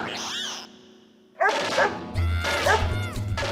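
A dog named Sheru barks in a housing society courtyard, giving several loud, close yaps and woofs in quick succession over a steady background hum.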